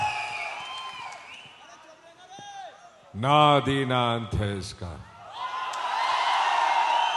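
A crowd applauds and cheers for Ajay Devgn at the Shivaay trailer launch event, with a broad wash of clapping before and after a loud sung passage from the trailer.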